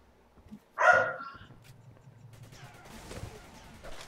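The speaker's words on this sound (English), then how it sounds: "that was my dog barking there" A dog barks once, fairly loud but slightly distant in a house, followed by a low hum and faint clattering sounds from a computer game.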